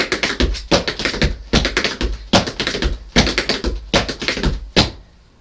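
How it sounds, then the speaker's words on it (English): Tap shoes on a hard floor beat out a repeated stamp, shuffle and full change step pattern from Gene Kelly routines, crisp close clusters of taps and heavier stamps in a steady rhythmic loop with short pauses between phrases. "Stamp, shuffle, full change step, stamp, and again."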